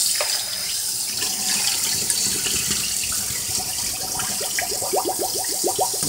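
Tap water runs steadily into a kitchen sink while oxtails are rinsed, a constant close splashing hiss with some irregular gurgles and sloshes as the meat is handled.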